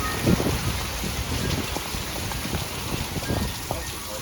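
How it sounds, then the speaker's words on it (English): Heavy rain falls during a strong nighttime thunderstorm with gusty winds, a dense, steady patter with scattered sharper drops close by and no voices over it. "I think the storm re-intensified."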